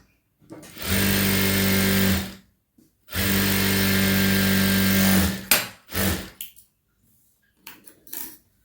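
Two long, steady runs of a sewing machine stitching along the edge of a boat-neck blouse lining, loud and close, split by a short pause and followed by a few fabric-handling clicks and rustles.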